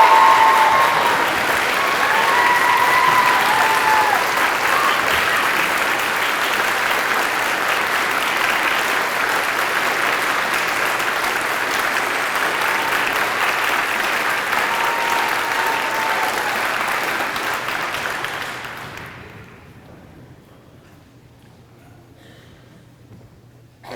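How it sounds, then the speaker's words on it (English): Audience applause at a Founders Day convocation award presentation fills the hall, loud and sustained for nearly twenty seconds before it cuts off into quiet. "prepare yourself for a big round of applause for this one"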